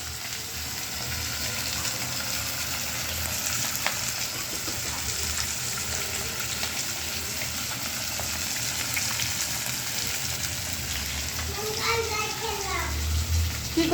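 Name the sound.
fish frying in pan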